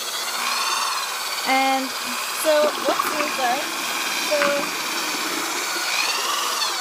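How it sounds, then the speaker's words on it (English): A variable-speed power drill stirring glaze in a bucket whirs steadily at moderate volume, its pitch shifting slightly as speed varies, with a brief spoken phrase near the start. "I have my drill, and I'm going to brace myself, start it off slow as a variable speed drill"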